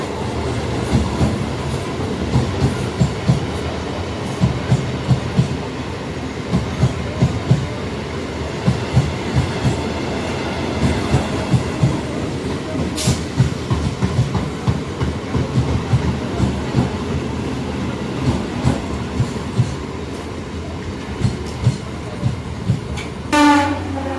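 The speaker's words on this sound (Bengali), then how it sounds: "শিয়ালদাগামে একটা ট্রেন আসছে যেটা বালিগঞ্জ পর্যন্তই যাবে" A Sealdah-bound train running to Ballygunge rumbles and clatters loudly along the tracks with rhythmic wheel clicks, ending with a short horn blast.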